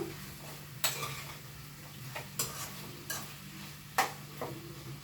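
Chicken fry being stirred in a pan over high heat, with a steady low sizzle and a few sharp scrapes and clinks of a utensil against the pan at irregular intervals, no talk.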